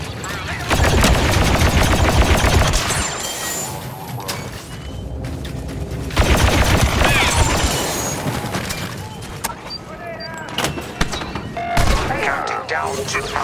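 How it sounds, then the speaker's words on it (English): A turret fires in a droid battle video game, laying down dense, loud bursts of rapid automatic gunfire and booms that continue throughout with brief surges, while a voice is heard in the background. "Activating turret."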